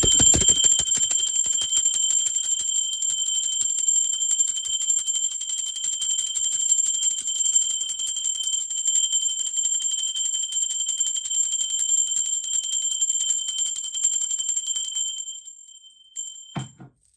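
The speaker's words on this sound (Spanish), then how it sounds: "Va, campana." A bell rings loudly and alone, its bright, steady tone sustained for about fifteen seconds before fading quickly.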